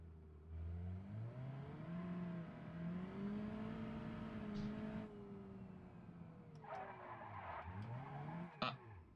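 A car in the BeamNG Drive driving game revs its engine through shifting pitches, then its tires squeal and skid, ending with a short sharp impact.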